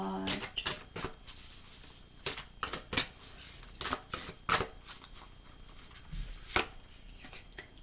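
A deck of cards is shuffled by hand in a quiet room, several rapid riffling bursts and soft taps repeating at an uneven pace, close and fairly faint.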